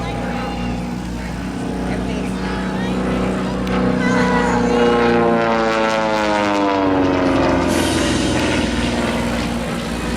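A Super Chipmunk aerobatic airplane performs at an airshow, its propeller engine droning loudly with a pitch that bends as it passes, while an announcer talks over the top throughout.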